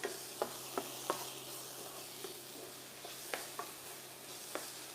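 Garlic cooking in a pan for a steak sauce, with a soft continuous sizzle under a series of light, evenly spaced utensil taps, close and quiet with a faint low hum beneath.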